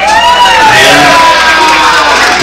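A loud crowd at a folk music concert cheers and whoops steadily for a young performer, with voices rising and falling over a continuous roar.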